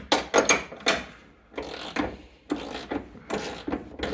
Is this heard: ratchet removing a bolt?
yes